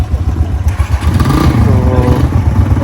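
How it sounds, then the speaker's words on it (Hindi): Several heavy motorcycles belonging to a group of bikers idle and rev close by in the Phofandi Hills, a steady low engine rumble with clattering mechanical texture and a rising throttle swell partway through. "ये कुछ बाइकर्स भी आए हुए हैं हजरात यहाँ पर, थोड़े हैवी बाइक्स हैं इनके।"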